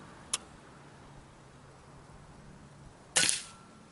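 A Crosman Vantage NP .22 air rifle fires a pellet that strikes its target: a faint click comes first, then one sharp, loud crack near the end with a brief ringing tail, with no talking.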